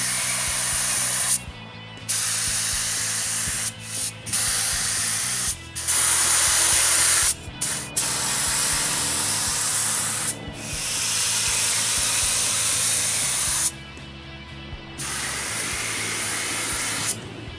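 Lacquer finish is sprayed onto wood panels for a home theater stand in repeated long hissing bursts separated by short pauses. Each burst is loud and steady, with a faint mechanical hum running underneath.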